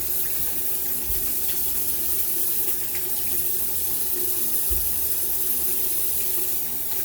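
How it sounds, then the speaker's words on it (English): A bathroom tap runs in a steady, full stream while someone rinses off after shaving, with the water loud and close and continuous throughout. "Let me rinse off."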